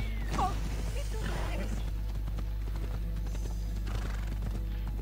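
Rhythmic hoofbeats of a galloping horse in Assassin's Creed Odyssey on PS4, with a neigh near the start, over a steady low rumbling background.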